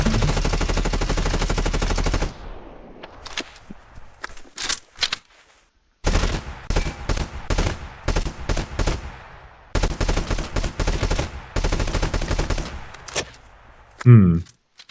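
Bursts of automatic gunfire from the video game Silica, loud and sustained volleys broken by short gaps and scattered single shots, repeating over several seconds.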